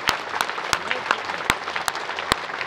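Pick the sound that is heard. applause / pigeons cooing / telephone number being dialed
applause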